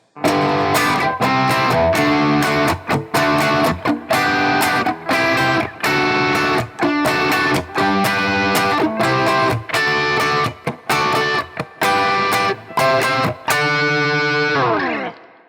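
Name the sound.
electric guitar chord progression rising up fretboard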